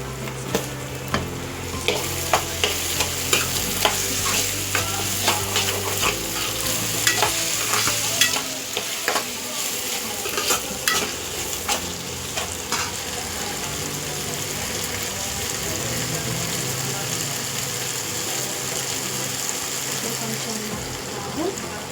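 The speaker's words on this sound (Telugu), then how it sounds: "కొంచెం బాగా ఉడికినాక కొంచెం అల్లం వేసుకున్నాం" Ginger being fried and stirred into a simmering pan dish: a steady close sizzle runs throughout, punctuated by frequent sharp spoon scrapes and clicks against the pan.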